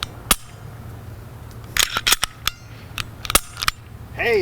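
A Walther P99 pistol's trigger is pulled in double and then single action, giving several sharp, close mechanical clicks and snaps at irregular intervals, with no talking.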